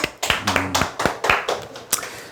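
An audience at a sales coaching session claps in a sparse, loose scattering of distinct claps, several audible hands close by, with a faint tone in the background.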